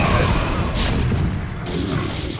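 Siege tanks fire in a 3v3 StarCraft match: heavy, overlapping booms and blasts merge into a loud, continuous rumble of artillery with no clear gaps between shots.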